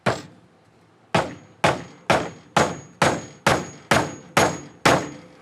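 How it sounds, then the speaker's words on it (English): A cheap hammer drives a nail into a wooden board with nine sharp, evenly spaced strikes, each a loud ringing clang that decays quickly, close up and alone. "Nail into the board test."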